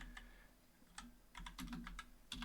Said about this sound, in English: I don't type like super fast, especially when I'm trying to do this.